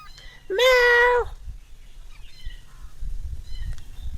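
A single clear meow rings out close by at a home in the Konkan countryside, followed by quiet background noise and faint distant sounds.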